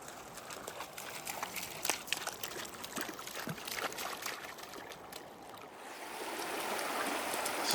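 Steady, soft rushing of Pacific Creek's water flowing through laced channels outdoors, a continuous trickling wash with scattered light splashes, growing slightly louder toward the end, with no talk.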